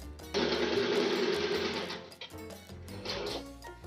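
A sewing machine stitches the second side of a saree, running in a loud steady whir for about two seconds, then slowing into shorter uneven bursts with pauses.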